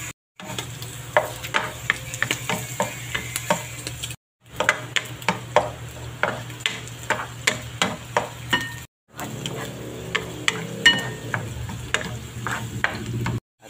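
Garlic and onion sauté together in a pan with ampalaya, sizzling softly under rhythmic scraping stirs of a spatula. The strokes come in quick, regular bursts, with two brief pauses between them.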